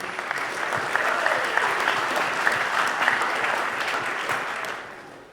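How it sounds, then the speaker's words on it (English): A high school athletic awards crowd applauds the winter coaches, a full, steady wash of clapping from many hands with a few sharper claps standing out, fading at the close. "a round of applause for all the winter coaches"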